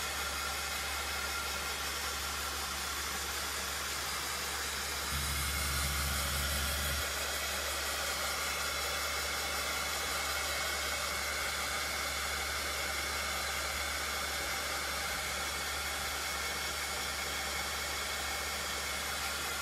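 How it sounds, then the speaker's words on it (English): A heat tool blows a steady, loud hiss and drone while drying chalk paint on a Dollar Tree pumpkin, continuous throughout with a brief louder surge early on, and no talking. "I'm just going to grab my heat tool, and I'm going to get this all dried up"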